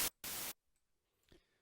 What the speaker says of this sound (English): choose white noise for each oscillator